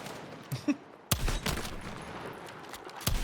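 Gunfire in a Battlefield 6 battle royale match, with sharp bursts and a sustained volley of shots, moderately loud, with a few isolated cracks before and after.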